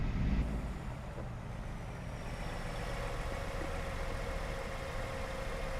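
Truck engine idling and running in American Truck Simulator, a steady low rumbling drone heard from inside the cab, with a brief louder knock at the start then a constant hum.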